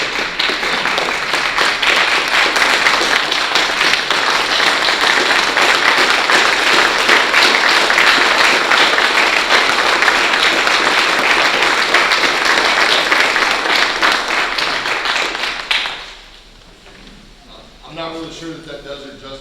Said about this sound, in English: I don't think a round of applause or a standing ovation will do her justice